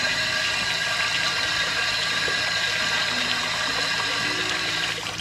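Water runs steadily at a Thai resort, a continuous, even splashing hiss at moderate level with no pauses and no talking over it.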